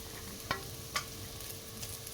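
Cashews and coconut pieces frying with onions in a pan for mutton masala gravy curry, a soft steady sizzle with two sharp stir clicks near the start, no talk.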